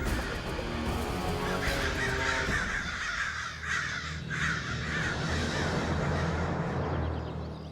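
Black crows caw repeatedly in a loud, dense flock, harsh calls overlapping and continuing steadily throughout with no voices.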